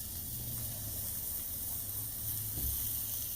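Ribeye steaks sear on a Blackstone griddle with a steady, broad hiss of hot fat, moderately loud and close, continuous with faint low background hum and no speech.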